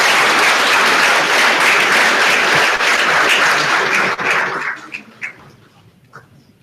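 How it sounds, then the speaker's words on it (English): Audience at an experimental physics refresher course welcoming guests with a round of applause, dense sustained clapping that thins out and fades to scattered claps near the end. "May we have a round of applause?"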